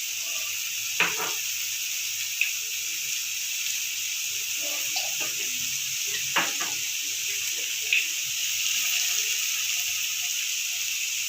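Chopped capsicum with turmeric, pepper and other spice powders sizzles steadily in a pan, a constant hiss broken by occasional scraping stirs and clinks of a utensil.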